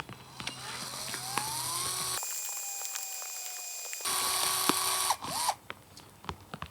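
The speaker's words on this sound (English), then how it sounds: "we're gonna time and see how fast it takes to dispense a complete full tube of caulking on 6." An electric caulk gun on speed setting 6 pushes out a full tube of caulking with a steady, close motor whine whose pitch climbs slightly, broken by a brief cut before the whirring resumes.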